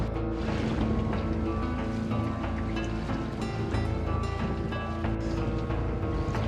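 A sailboat heeled over and tossed about on the open ocean, with a steady, loud wash of water and hull noise plus mechanical creaks and hums running continuously, no voices.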